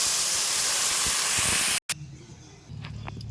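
Water poured into a pan of sautéed fish curry sets off a loud, steady sizzling hiss that cuts off abruptly, leaving a quieter bubbling simmer.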